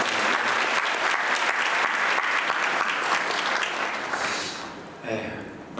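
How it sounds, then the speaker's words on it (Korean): Warm, dense applause fills a church hall for a pastor after his lecture at a spiritual revival meeting, steady for several seconds before tapering off, with a voice briefly surfacing at the end. "다시 한번 뜨거운 박수를 한번 부탁드립니다."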